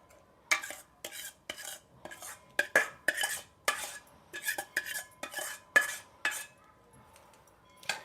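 A spoon stirs a hot mixture of jaggery, ghee, edible gum and fenugreek for ladoos in a metal pan. It scrapes and clinks in a quick series of sharp, close knocks and scrapes against the metal.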